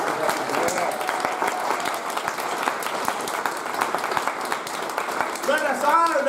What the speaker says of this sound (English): let us give a loud round of applause for Veterans for Peace.